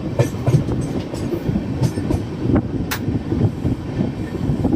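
A Garib Rath train runs through Basti station without stopping, heard from inside the carriage as a steady rumble with rhythmic clickety-clack of wheels over rail joints.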